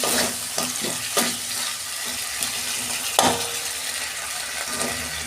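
Spiced vegetables with ginger fry in a pan as a tomato goes in, a constant close sizzle broken by several sharp stirring scrapes and knocks of a utensil.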